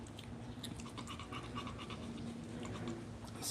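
Several dogs panting close by, a quiet, steady run of quick breaths and snuffles with no one talking.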